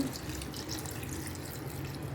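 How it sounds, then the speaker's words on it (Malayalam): Water is poured into chicken curry in a pan while it cooks down toward a roast, a steady, close running and splashing sound with no talk. "നമ്മളത് വെള്ളം ചേർത്ത് ചേർത്ത് കൊടുക്കുകയാണ്"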